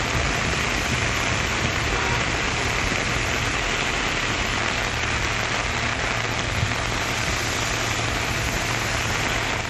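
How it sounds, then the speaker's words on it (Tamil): Heavy rain with wind falls over Chennai's ECR and OMR road areas, a loud, steady, unbroken hiss of downpour that fills the whole stretch without any voices. "சென்னை ECR மற்றும் OMR சாலை பகுதிகளில் காற்றுடன் கனமழை பெய்ததால் வாகன ஓட்டிகள் அவதிக்குள்ளாகினர்"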